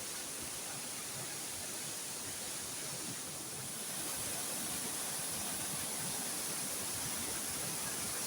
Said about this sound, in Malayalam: ഈ വെള്ളച്ചാട്ടം കാണാൻ വേണ്ടിയിട്ടാ നമ്മൾ വന്നിന്.